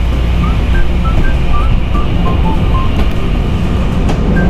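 A loud, steady rumble of rolling wheels and rail noise fills the inside of a moving train on a line in Taiwan between Shanjia, Sijiaoting and Ruifang stations, with no talking.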